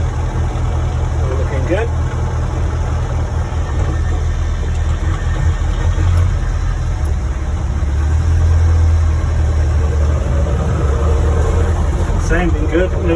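Land Rover Series One engine idles steadily while warming up, a continuous low rumble with a faint ticking layer running throughout; someone speaks briefly over it.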